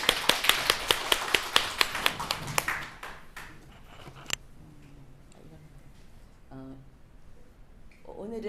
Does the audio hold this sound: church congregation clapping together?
yes